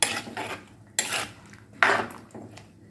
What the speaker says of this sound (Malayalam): നമുക്കെല്ലാം കൂടെ ഒന്ന് ഇളക്കാം.